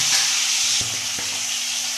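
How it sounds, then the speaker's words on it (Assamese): Eggs fry in hot oil in a pan, giving a steady close sizzle with a few light scraping stirs and no talking. "এতিয়া তেল গৰম হৈছে যিহেতু মই কণীকেইটা ফ্ৰাই কৰি ল'ম"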